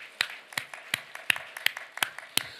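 Church congregation clapping in rhythm at a Korean Easter festival worship service, steady sharp claps about every third of a second, moderately loud and close, with no voices over them.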